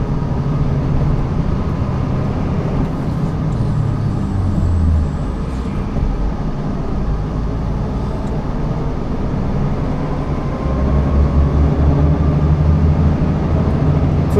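A loaded truck rolls through town over a speed bump, its fourth axle hitting the hump, with a steady loud engine and road rumble from the cab and a few low thuds and shifts in the drone.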